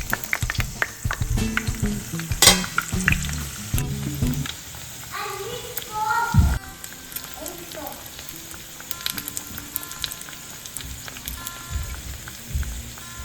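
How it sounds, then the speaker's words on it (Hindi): Samosas fry in hot oil with a steady crackling sizzle, broken by clinks and stirring knocks from a utensil, and faint household voices in the background. "इनके लिए ये बन रहे हैं समोसे। ये देखिए जी, तो इनको ऑयल में हम कर रहे हैं।"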